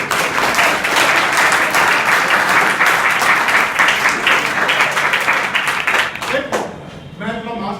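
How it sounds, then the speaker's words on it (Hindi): Students at an Indian inter college education programme break into loud, dense applause that keeps going for several seconds, thins out near the end, and gives way to a voice. "तो इसके लिए एक और ताली।"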